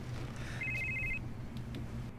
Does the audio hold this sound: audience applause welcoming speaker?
no